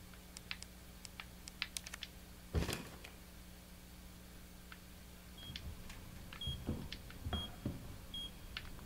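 A countdown timer in the video game Resident Evil 2 Remake beeps in short, faint, evenly spaced tones late in the clip, over soft clicking and keyboard tapping.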